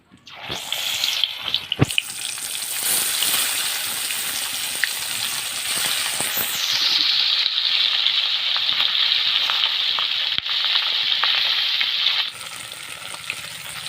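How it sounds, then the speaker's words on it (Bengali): Taki fish fry in hot oil in a wok, starting with sharp spitting crackles that settle into a loud, steady sizzle, close up and without speech. "কড়াই তেল দিয়ে দিয়েছি এবার মাছগুলি সুন্দরভাবে ভেজে নেব"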